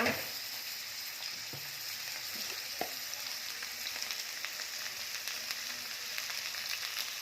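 Steady, crackling sizzle of onions frying in a hot pan, with a few soft clinks of stirring, fairly quiet and close.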